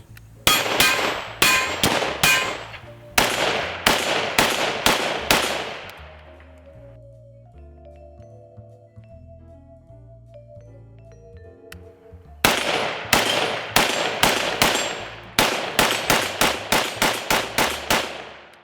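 Full-length M16A4 rifle fired in quick loud strings of close, sharp reports with ringing decay, a pause with faint metallic clinks in the middle, then another rapid burst of shots.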